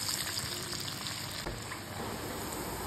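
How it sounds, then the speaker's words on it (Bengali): Diamond-cut snack pieces frying in hot white oil in a wok make a dense, even crackling sizzle, close and continuous, with no talking. "একটাও কিন্তু ছেড়ে যাচ্ছে না, সুন্দর ভাজা হচ্ছে।"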